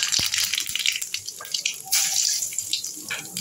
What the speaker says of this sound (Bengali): এর মধ্যে কালো জিরার ফোড়নটা দিয়ে দিলাম